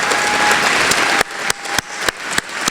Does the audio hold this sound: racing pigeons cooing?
no